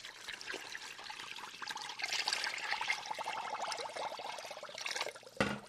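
Toronto tap water pours into a large saucepan holding sugar, making a steady close splashing trickle that swells a little midway and ends with a brief knock.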